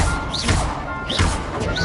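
Fiery Incendio spell impacts in Hogwarts Legacy, two bursts of crackling, whooshing flame about a second apart, moderately loud over a busy combat soundscape.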